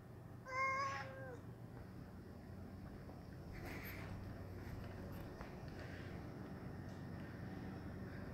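A house cat gives one short meow near the start, then a long stretch of low background noise with faint movement sounds follows.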